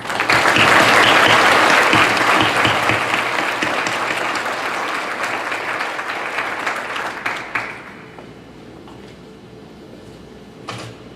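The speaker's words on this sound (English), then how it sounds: "please help me in giving Margaret McMahon a very hearty round of applause" A chamber of commerce banquet audience gives a hearty round of applause, loud and dense at first, thinning and fading after about seven seconds, followed by quiet room noise and a lone late clap.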